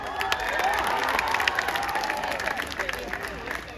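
A live crowd in Kolkata applauds, cheers and whistles, a dense wash of clapping with rising whistle tones, while people talk over it.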